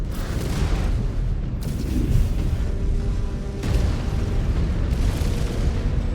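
Missile explosions in a Mechwarrior 5: Clans mech battle land as heavy booms with rolling rumble, fresh blasts hitting at intervals over a continuous low roar of combat.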